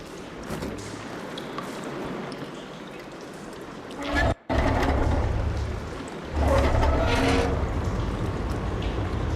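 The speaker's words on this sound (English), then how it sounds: "Aloy, I can hear water in the room again." Running water gushing through a room after a valve is opened in Horizon Forbidden West, a steady broadband wash that swells louder after a brief dropout, with a mechanical thump and faint background noise.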